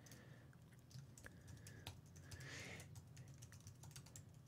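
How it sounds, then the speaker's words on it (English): Rapid keystrokes on a computer keyboard as a web address is entered, a steady run of light clicks with a few louder taps, fairly close and heard alone. "I just type in my domain"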